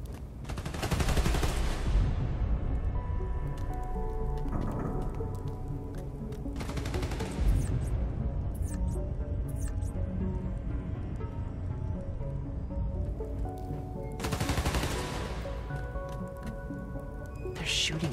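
Bursts of gunfire in the Spider-Man Miles Morales video game, loud broadband volleys repeating across a busy, noisy game soundtrack with a few separate heavy blasts.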